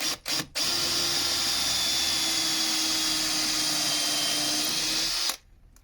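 A power drill boring a deep nose hole at an angle into a wooden snowman: two brief starts, then a steady, loud whirring whine held for about five seconds before stopping abruptly, with no talking.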